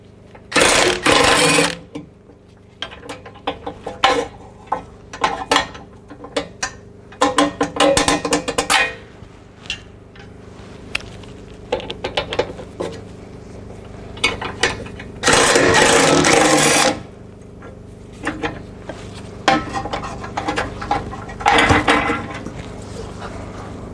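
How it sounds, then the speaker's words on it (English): Bolts being removed from the cross member under a Sprinter van, with repeated loud bursts of a power tool whirring and ratcheting close by, separated by quieter gaps of clinking and handling. "So I'm gonna remove the bolt on this side."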